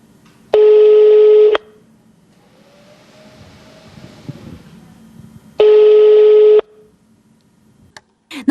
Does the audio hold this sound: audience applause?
no